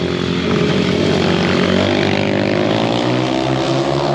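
Motorcycles rush in fast on a track, a loud, close, continuous engine roar with rising and overlapping revs as they approach; no speech.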